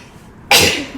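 A single sudden sneeze bursts out loud and close after a quiet moment, trailing off quickly into silence.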